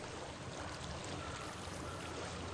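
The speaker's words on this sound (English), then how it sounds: "I hear water." Flowing stream water in the video game Hellblade: Senua's Sacrifice, a steady, broad rushing wash with no breaks, fairly close and alone.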